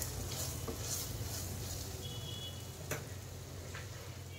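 Amla pickle being stirred with Kashmiri chili powder, a steady soft scraping and mixing texture with a faint sizzle-like hiss throughout, one sharper tap near the end, no talking.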